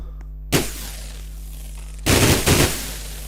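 Gunfire in a video game: one short loud burst, then a pause, then two more rapid bursts in close succession over a steady low hum.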